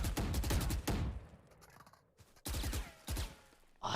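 Rapid bursts of video game gunfire fired while the player character moves and shoots, two quick strings of close, punchy shots separated by a quieter pause.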